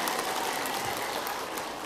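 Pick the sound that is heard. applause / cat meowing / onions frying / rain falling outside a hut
applause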